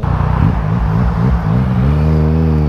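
A motorcycle engine revs loud and close with a steady throaty drone, the pitch rising and falling, then settling into a sustained higher whine on a ride toward the Pacific Coast Highway.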